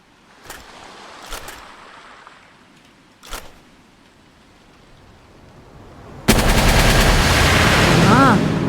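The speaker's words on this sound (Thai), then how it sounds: "สาดกระสุนไว้ก่อน" Gunfire in the video game Palworld: a few scattered single shots early on, then a loud, dense, continuous burst of rapid fire that holds through the final seconds.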